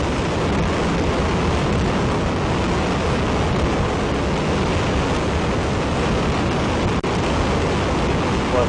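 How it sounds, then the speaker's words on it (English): The Ares I first-stage five-segment solid rocket motor firing: a continuous, loud, broadband roar that stays steady throughout, dense and rumbling without a break. "We have ignition of the Ares 1 first stage 5-segment solid rocket motor"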